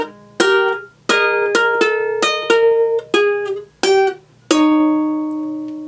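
Plucked ukulele notes ringing one after another in a steady, unhurried melody, with a lower note sustaining underneath and the last note left to ring.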